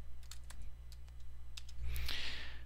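Someone types on a computer keyboard as scattered soft key clicks over a steady low hum. A brief hiss comes near the end.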